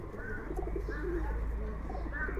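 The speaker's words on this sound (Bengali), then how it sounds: "দেখেন খুব সুন্দর কবুতর" Domestic Giribaz pigeons coo in low, throaty, repeated calls close by over a steady background hum, with a few light chirps mixed in.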